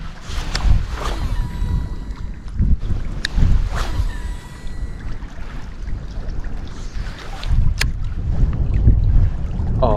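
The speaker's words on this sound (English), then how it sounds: "This wind is just fantastic." Gusty wind buffets the microphone on a small fishing boat out on the water, a steady rushing roar broken by occasional knocks and clatters from the hull and gear.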